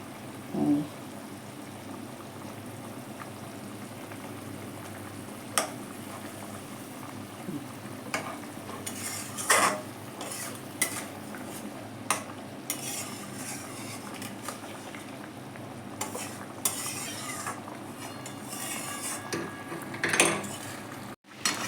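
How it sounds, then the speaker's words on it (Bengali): A metal spatula scrapes and taps in a pan of simmering egg curry made without onion or garlic, cutting through boiled eggs with scattered clinks and scrapes over a soft steady bubbling, with a few louder knocks. "এবার আমি খুন্তি দিয়ে দু একটা ডিম কেটে দেবো"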